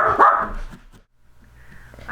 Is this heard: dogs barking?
yes